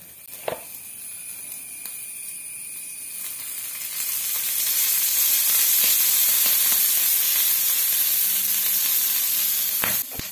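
Chili peppers frying in hot coconut oil in a home kitchen, a soft sizzle that swells to a loud, steady crackling hiss partway through, with a few faint clinks and no talking.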